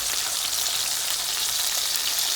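Thin ribeye steaks and peeled garlic sizzle steadily in hot oil, a dense, bright crackling hiss that stays constant with no voices.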